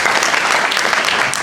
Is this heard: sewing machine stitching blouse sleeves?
no